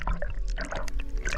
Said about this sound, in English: Diving into the water